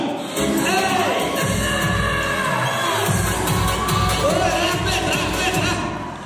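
Guests at a circumcision celebration (sündet toy) clap and cheer together, a dense crowd roar with whoops and shouts rising over a lively room, sustained and fairly loud throughout, with voices mixed in.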